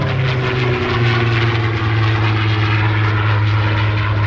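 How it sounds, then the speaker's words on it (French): A Supermarine Spitfire, a British late-war fighter, drones past at an air show at Melun Villaroche, its piston engine giving a steady, loud propeller roar with a sustained low hum throughout and no talk. "Et c'est précisément le Spitfire qui vous est présenté aujourd'hui."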